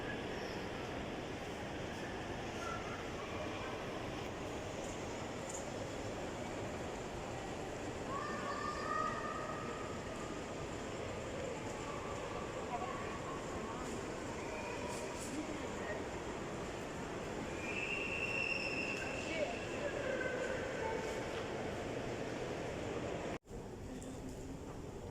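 Steady rumble of a metro train at a station platform, with occasional squeals and a hum of machinery throughout, a sharp drop near the end, and people talking in the background.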